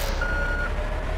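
A truck in GTA 3 sounds its steady electronic reversing beep while backing into a parking spot, loud and close, with engine rumble underneath.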